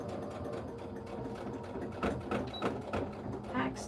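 A sewing machine back stitching across the seams of a scrappy zipper pouch, its steady mechanical whir running continuously with brief louder bursts near the end and voices faintly underneath.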